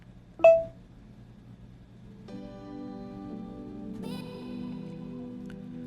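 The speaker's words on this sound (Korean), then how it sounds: "바로 전화가 걸리는 것을 확인할 수 있습니다" A Samsung Galaxy phone gives a short beep after a Bixby voice shortcut, then a steady outgoing call tone starts and shifts pitch partway through, clear and close in a quiet room.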